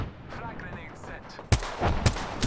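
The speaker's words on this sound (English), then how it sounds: "Oh, I got him with both my grenades." Grenade explosions in a shooter video game, a couple of sharp blasts with booming tails arriving after a quieter stretch, loud and close with faint game noise before.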